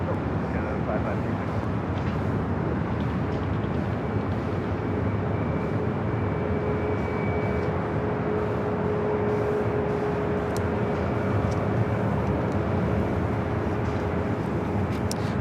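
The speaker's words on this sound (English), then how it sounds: "United 757 taking off 25 right" A United Boeing 757 airliner takes off from runway 25 right at Los Angeles International Airport, heard as a steady, broad jet roar at a distance, constant throughout with a faint tone above it.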